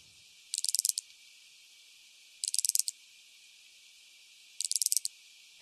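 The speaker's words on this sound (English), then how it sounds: "How about this creaking branch cicada?" Creaking branch cicada song from an Australian species: three evenly spaced bursts of rapid, dry, ratcheting clicks, each about half a second long, heard clearly against a quiet background with no voices.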